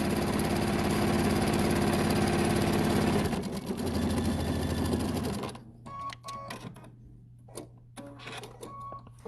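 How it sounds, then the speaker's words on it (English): A sewing machine runs steadily and loudly, stitching a quilted fabric circle for a placemat. It then stops, leaving clicks and light handling sounds at close range. "finish sewing my circle together"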